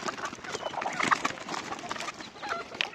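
Hens cluck and chatter continuously nearby in a rural yard, a busy overlapping series of short calls with no talking.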